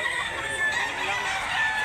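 Chickens at a poultry sale in Mantalungon, Barili, Cebu, clucking and crowing in a brief, busy stretch of overlapping calls, moderately loud with a faint voice in the background.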